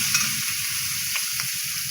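Chopped onion frying in oil in a wok, a steady close sizzling hiss that runs throughout, with a couple of faint stirring scrapes and no talking.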